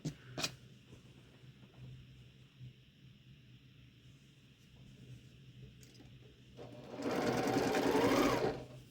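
A sewing machine stitches quilt fabric pieces together in a quick, steady run of about two seconds, close and fairly loud after a quiet stretch of faint handling noises.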